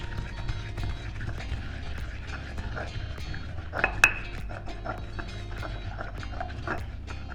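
Palm sugar being bashed with fish sauce in a kitchen to dissolve it, giving a run of light, irregular knocks and taps over a low background hum, with one sharper clack.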